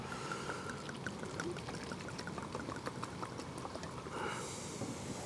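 Blueberry moscato wine pours steadily into cups, a continuous gurgling, splashing stream heard up close with no break.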